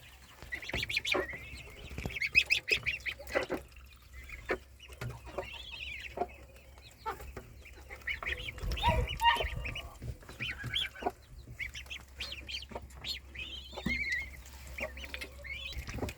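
Young goslings kept with chickens in a coop on a Sunday evening give repeated thin peeping calls, with clucking and rooster-like fowl sounds nearby, scattered over a soft steady background.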